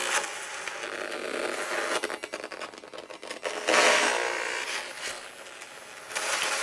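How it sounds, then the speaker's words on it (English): Crackling, buzzing electromagnetic interference from a cell phone picked up with an electromagnetic pickup, a dense hiss with flickering textures and bursts that shift over several seconds, recorded close with no talking. "It's electrostatic noise using this thing."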